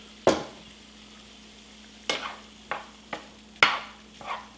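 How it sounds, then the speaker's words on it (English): Vegetables sautéing in a little oil in a pan while cooking peanut sauce noodles with broccoli and smoked tofu: a few sharp utensil knocks and stirring scrapes over a faint background hum, with little audible sizzle. "Now just a slight bit of oil there, not too much, just so it sautés a bit"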